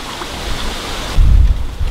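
Steady rushing water from a backyard waterfall, a continuous splashing wash with a deeper surge partway through, close by and with no voices.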